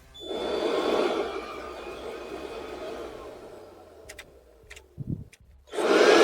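A Ryobi 18 V compact battery blower runs at its lowest power setting, a steady airy whoosh that fades as it spins down, followed by a few clicks and then the motor surging loudly again.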